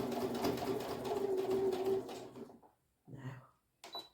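A sewing machine stitches a fabric bookmark across a ribbon, a steady close mechanical whir running for about two seconds before slowing and stopping, followed by a couple of short bursts.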